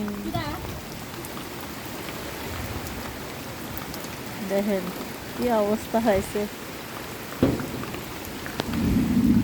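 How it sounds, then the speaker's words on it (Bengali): Heavy rain pours steadily with rumbling thunder beneath it, while a person talks intermittently over the downpour near a flooded kitchen. "গাইস দেখেন বৃষ্টি হয়ে কি অবস্থা, ঘর দূরে রান্নাঘরে পানি।"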